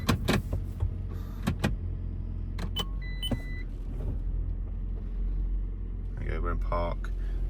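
A cheap Toyota Prius running with its handbrake on gives a low, steady idling rumble, broken by sharp clicks and knocks at the start and a short mechanical whir near the end.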